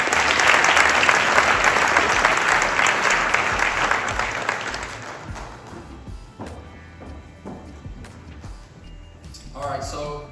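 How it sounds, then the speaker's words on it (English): At a high school football banquet, the audience gives the team a round of applause, loud and dense at first, then tapering into a few scattered claps, with voices and room noise toward the end. "we just want to give our boys another round of applause for such a great season"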